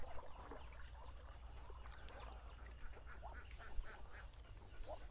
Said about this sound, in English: Well, the ducks seem happy enough.